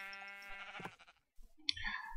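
A sheep in the Minecraft video game gives a single synthetic bleat, followed by a few soft clicks and faint game noise, all at low volume.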